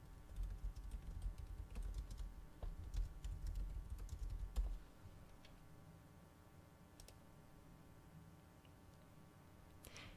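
Someone types a company name, Procter & Gamble, into a search box on a computer keyboard: quiet, scattered keystroke clicks in uneven bursts over a soft room hum, with no voices.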